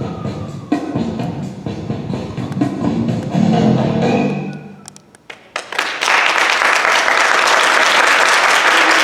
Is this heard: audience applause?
yes